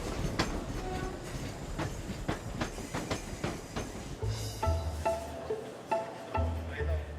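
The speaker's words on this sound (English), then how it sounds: "It looks like we're getting some trains leaving" Trains rumbling out of a busy central station platform, with a steady low roar, rhythmic clacks of wheels over rail joints and brief squeals and tones as carriages pull away.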